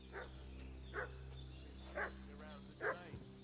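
A dog in Kingdom Come Deliverance II barks four times at a steady, unhurried pace. The barks are faint and somewhat distant, heard over a low background hum with no one speaking.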